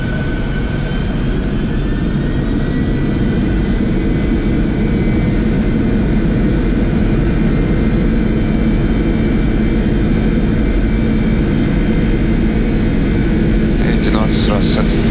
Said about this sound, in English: Setting takeoff thrust.